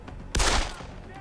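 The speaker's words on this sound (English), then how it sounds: "My man just started shooting all randomly." Gunfire in the video game Deus Ex: Human Revolution, a sudden loud burst of shots about a third of a second in that decays quickly, over a low steady background.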